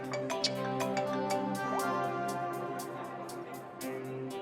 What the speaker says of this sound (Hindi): सुबह सुबह महक का फोन